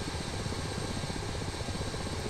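Ka-50 Black Shark attack helicopter engine in the DCS World flight simulator, a steady, dense turbine and rotor drone held at even loudness throughout, with no other sounds.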